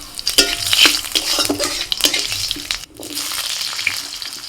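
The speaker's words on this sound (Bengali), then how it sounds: "তেলের মধ্যে ফোড়নে দিচ্ছি তেজপাতা আর দিচ্ছি গোটা জিরে" Bay leaf and whole cumin sizzle in hot oil, a close crackling hiss with busy stirring and scraping in the pan that briefly drops away before picking up again.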